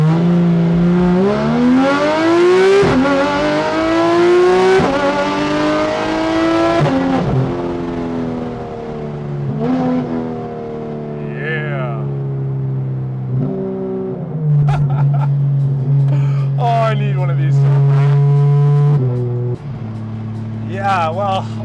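A Porsche 991.1 GT3 RS launches hard, its engine screaming loud and close as the revs climb in long rising sweeps, broken by brief drops at each gear change.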